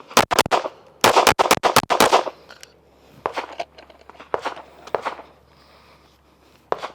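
Fast strings of pistol shots during target shooting practice aimed at the upper chest area: a tight opening burst, then a second rapid volley and scattered single shots that echo and fade.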